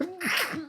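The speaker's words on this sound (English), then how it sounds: "Sorry, that was a sneeze." A single short sneeze, sharp and close, with a brief voiced burst right after it.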